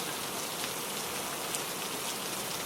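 Steady rainstorm with rain pouring down as an even, dense hiss of falling drops, constant and moderately loud with no other sounds.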